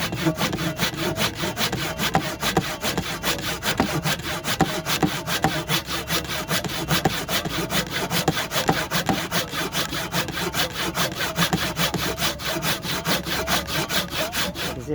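A handsaw cuts through cedar wood, working by hand with no machines. It makes steady, rhythmic rasping strokes, close and loud, that continue for the whole stretch with no talking.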